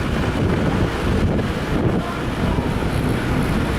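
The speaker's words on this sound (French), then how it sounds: "mais là il y a du vent et il n'y a pas de 30 degrés" Wind buffets the microphone steadily at a seaside shore, a loud continuous low rumble with gusting swells throughout, no voices.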